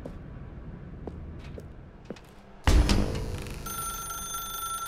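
Telephone ringing in The Stanley Parable: Ultra Deluxe, a bell-like ring bursting in loudly after a few faint clicks and sustaining over a dim room tone.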